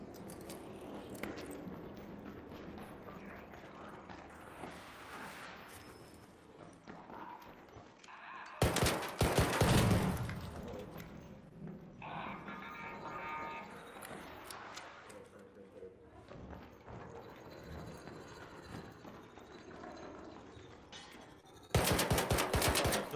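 Video game gunfire, with bursts of rapid shots and loud blasts cutting in around the middle and again at the end, over quieter game sounds and movement.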